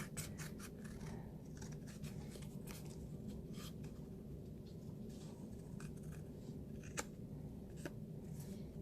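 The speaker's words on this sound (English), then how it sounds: "Then we're just going to take our scissors and we're going to cut that excess that is hanging over" Scissors snipping excess paper hanging over the edge of a handmade card, a faint series of quick, close cuts and scrapes over a quiet, steady background hiss.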